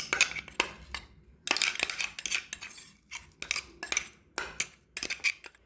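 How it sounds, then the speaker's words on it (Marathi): A spoon scoops ground green pea thecha from a vessel into a bowl, giving repeated metallic scrapes and clinks in short bursts, close and fairly quiet. "मी एका बाउलमध्ये याला काढून घेते"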